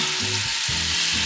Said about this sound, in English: I'm going to go ahead and add in my tomatoes, because I want them to start cooking a little bit